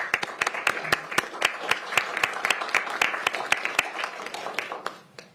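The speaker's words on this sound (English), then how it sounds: "We can have a round of applause for that." A small audience at a Pierce County Council meeting claps for a domestic violence prevention proclamation, with distinct, fairly sparse hand claps in a steady patter that thins out near the end.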